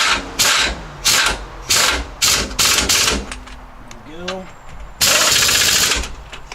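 An impact wrench fastens the rear brake caliper on an SVT Raptor, with a series of short, loud, close bursts in quick succession, a brief lull with a voice, then one longer rattling burst.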